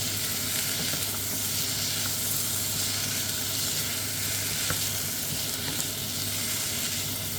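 Vegetables for potato and leek soup sizzle steadily in a hot pan while being stirred, a continuous close hiss with occasional soft scrapes and no talking.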